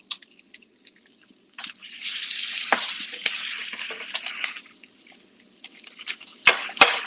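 Eggs frying in a pan of meat grease, a soft hissing sizzle that swells and fades with scattered pops and clicks of a utensil, close and fairly quiet.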